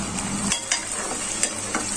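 Onions, curry leaves and large tomatoes frying for restaurant-style egg curry, a steady close sizzle with a few sharp spoon scrapes against the pan; no talking.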